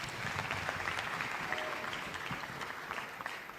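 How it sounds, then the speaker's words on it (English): Audience applause for the patron at a World Children's Day gathering in Kenya, a steady wash of many hands clapping at moderate distance, sustained for several seconds without a break. "Please give our patron another round of applause."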